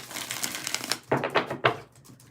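Tarot cards being shuffled by hand, a quick burst of papery riffling followed by several sharp separate card slaps, close and fairly crisp with no talking.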